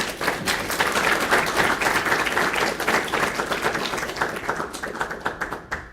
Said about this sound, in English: if we could just give him a quick round of applause